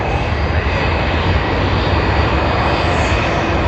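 An All Nippon Airways airliner arriving at Sydney Airport, its engines a loud, steady roar that holds constant throughout with no break.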